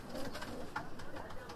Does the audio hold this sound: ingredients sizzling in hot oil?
no